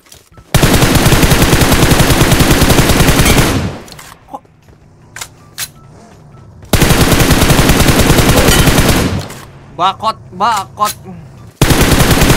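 Uzi submachine gun in PUBG Mobile firing loud sustained automatic bursts, with two long streams separated by brief pauses and a short spoken word and scattered clicks in between.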